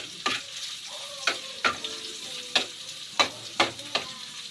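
Ginger sizzles in a hot pan as it is stirred, with a steady fry hiss broken by about eight sharp scrape-and-clack strokes of the utensil at a roughly even pace, close and fairly loud.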